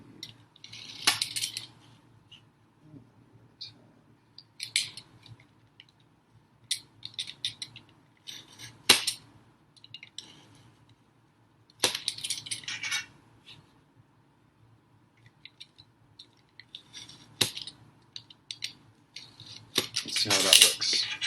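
Blade scoring and cutting through cardboard in short scraping strokes, separated by quiet pauses, close and crisp, with occasional voice in between.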